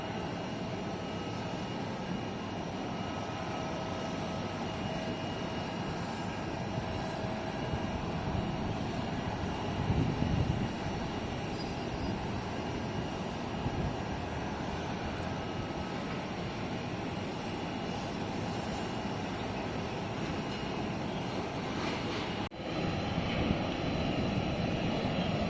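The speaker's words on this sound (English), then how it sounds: "The plane is about to take off very soon" At KLIA 2 airport in Kuala Lumpur, a distant airplane taxis and takes off as a steady, continuous engine roar that swells slightly partway through, heard over a constant airport hum.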